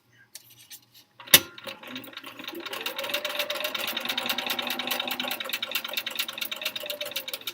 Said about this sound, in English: let's do the thing where we stitch in the same spot